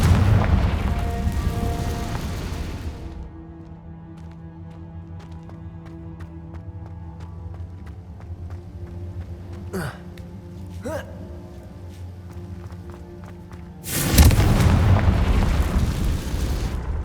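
Fiery blasts of the Confringo spell in Hogwarts Legacy, a loud burst at the start and another near the end, with faint crackles and a quiet ambient stretch between.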